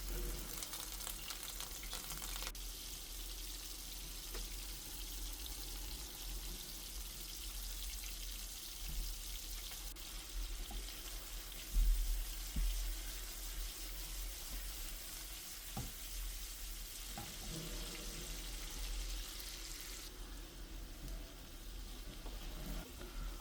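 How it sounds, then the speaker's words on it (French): Ground beef meatballs fry in oil in a pan, holding a steady hissing sizzle with occasional spatula knocks and stirring sounds, plus a brief low thump partway through. "Dans une poêle, on va venir mettre un peu d'huile et on va faire cuire nos boulettes de bœuf haché"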